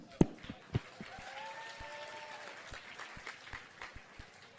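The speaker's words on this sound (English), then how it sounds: "Give yourselves a round of applause." Scattered applause from a small crowd at an awards ceremony, with a few sharp claps standing out over steady, soft clapping that carries on for several seconds.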